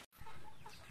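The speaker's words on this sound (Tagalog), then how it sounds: "Yan guys, yung mga sisiw." Chickens in a backyard coop give soft, close clucking calls in a quick burst after a brief dropout, with no talking.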